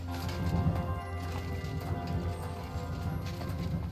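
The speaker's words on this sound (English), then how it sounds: "Beautiful horse." A horse's hooves clip-clop at a steady walking pace in the medieval game Kingdom Come Deliverance II, heard fairly quietly over a low background hum.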